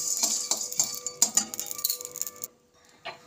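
Whole spices such as cumin and bay leaves stirred in a pan for biriyani masala, giving a run of light clinks and scrapes at an uneven pace, up close and with no voices, before the sound breaks off near the end.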